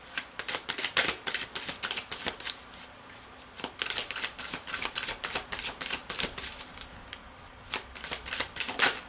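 Tarot cards are shuffled and handled, giving rapid close riffling and flicking bursts in uneven runs with short pauses between, no talking.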